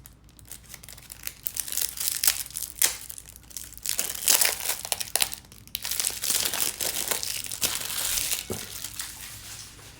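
Plastic wrappers come off a Manara tarot deck with close, continuous crinkling and crackling that swells and eases over about ten seconds, with no talk.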